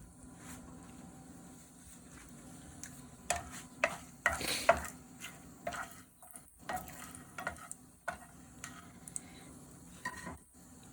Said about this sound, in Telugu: ఆయిల్ వేడైన తర్వాత బిర్యానీ ఆకు, లవంగాలు, ఆనస్ పువ్వు, 4 యాలకులు వేసి ఫ్రై చేసుకోవాలి